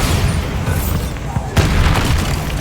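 A Bombarda blasting-spell explosion in Hogwarts Legacy lands as one loud, close boom, with a dense roar of rumble and debris that swells again partway through before the sound cuts off.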